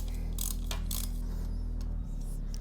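Ratchet loosening the headlight bracket bolts under the lower triple clamp of a Triumph Street Twin motorcycle: a few short bursts of clicking over a steady low hum, close and fairly quiet.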